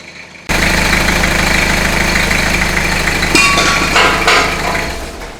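A 30-year-old Toyota 4x4 engine that runs but does not charge starts abruptly and settles into a loud, steady idle with a rough mechanical chatter and a few metallic ticks, heard close with no talking.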